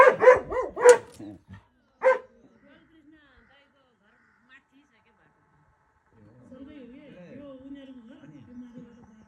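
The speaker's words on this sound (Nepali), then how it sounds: "तिनवटा कुकुरको फाइट भइरहेको छ अहिले चाहिँ" Three dogs fighting on a hillside near Ghandruk, Nepal: a quick cluster of loud, close barks and snarls in the first two seconds, then near silence, then a faint, wavering whine or voice toward the end.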